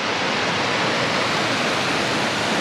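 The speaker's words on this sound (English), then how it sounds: "there's some falling water" Water pours steadily in a constant, full rushing hiss from a nearby waterfall in the Victorian High Country, with no voices or breaks.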